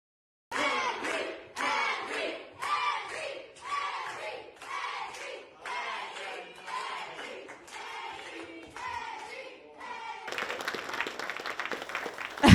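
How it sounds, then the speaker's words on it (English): A class of children cheering for a classmate, chanting in loud rhythmic bursts about once a second, then breaking into sustained applause and shouting at the end. "It's all the kids in the kid who stutters class cheering him on after it was all."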